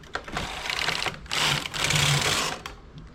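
A domestic knitting machine run with all needles on both main bed and ribber, its carriage pushed across in rhythmic bursts of rattling, clattering needle action, pausing briefly between passes, close and fairly loud with no talk.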